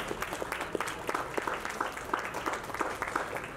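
Faint, scattered clapping from a small press conference audience at the Paradise Jam, individual claps audible in an uneven patter that stays quiet throughout.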